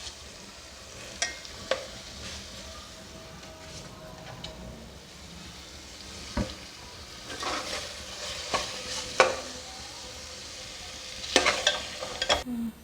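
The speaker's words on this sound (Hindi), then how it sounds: "हाई फ्लेम पे भून लूँगी" Barbecue keema frying on a high flame with a faint, steady sizzle, broken by sharp spoon clicks and scrapes against the pan as the mince is stirred, sounding close with no talk.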